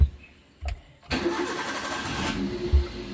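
A car engine with a misfire is cranked briefly, then catches and starts, settling into a loud, rough idle close by with a small bump in revs near the end.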